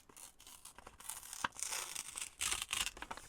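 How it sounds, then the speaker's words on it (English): Paper ripping as a gnome picture is torn from a junk journal page, a series of close, crisp tearing bursts with short pauses and crinkling between them. "I'm going to tear him out of there"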